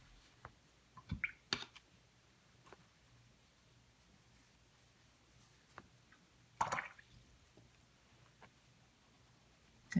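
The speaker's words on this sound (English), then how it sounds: "Continuing to dip in the water" During watercolor painting of poppies, a paintbrush dips and swishes in a water jar, giving faint scattered clicks and small splashes against a quiet background.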